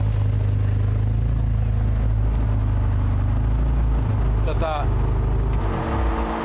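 An Audi S2 super saloon engine drones loudly and steadily from inside the car, with engine pitch shifts as gears change; people talk over it.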